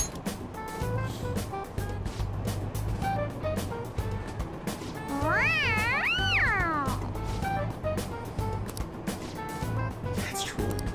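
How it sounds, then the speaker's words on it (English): A stuffed toy cat in Persona 5 gives a single rising, wavering electronic meow, loud and close, over steady engine rumble and background chatter. "Meows when you press on its head."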